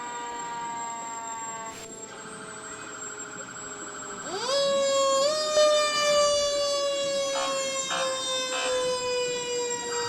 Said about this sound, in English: You gotta love the sirens and all the noise